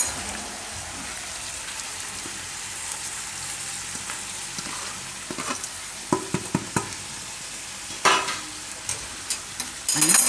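Cooked rice being stirred into a sizzling pan for a Gujarati sizzler dish, a steady hiss of frying with scattered scraping knocks of the spoon growing louder toward the end.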